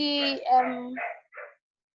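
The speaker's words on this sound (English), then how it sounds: "I'm sorry about the dog that is barking." A dog barks indoors at home, close by, in a quick burst of yelping, whining barks that ends in a short yip and then silence.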